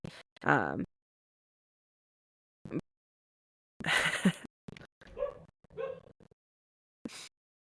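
A pet dog barks and whimpers in short separate bursts, close to the microphone, with long quiet gaps and a voice speaking between them.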